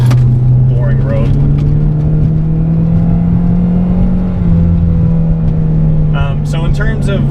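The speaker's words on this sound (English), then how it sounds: "I'm pushing this car to its limits right now" A car fitted with new aftermarket suspension, pushed hard on a road, its engine droning loud and steady with a slight rise in pitch, closing with a few brief squeaky tire or chassis noises.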